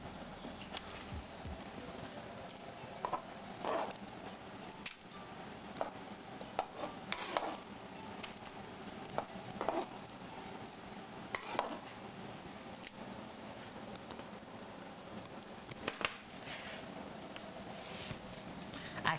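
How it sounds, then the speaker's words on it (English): Faint steady sizzling of onions frying in a pan, with occasional clinks and stirring clatter of utensils throughout. "I hear some onion sizzling."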